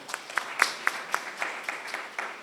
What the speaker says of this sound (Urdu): میری طرف سے ڈھیر ساری تالیاں